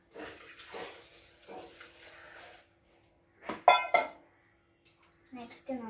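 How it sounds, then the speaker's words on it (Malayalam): Water is poured into a glass of mint lemon juice, a short splashing pour followed by clinks of glass and utensils, with a person talking over the first part. "നെക്സ്റ്റ് നമ്മള് വെള്ളം ഒഴിച്ചു കൊടുക്കാം."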